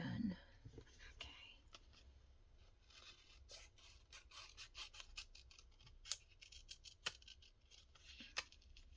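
Scissors fussy cutting paper for a fall-colors junk journal, giving quiet, close snipping and rustling at an irregular pace.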